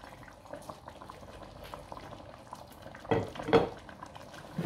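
Whole cumin and green chillies sizzle in hot oil in a pan for a fish gravy, a steady crackling hiss joined by a couple of clinks of a utensil against the pan near the end.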